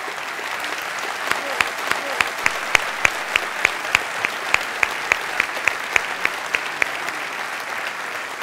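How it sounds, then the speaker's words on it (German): Audience applause for Professor Karl Albrecht Schachtschneider, a steady dense clapping from a large crowd with sharper individual claps standing out, sustained evenly and loud throughout. "Und das ist Ihr Applaus, Herr Professor Schachtschneider."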